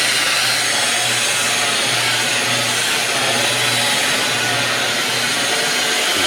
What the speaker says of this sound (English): 85 grit with a brand fresh new polishing bonnet that's been through the washer.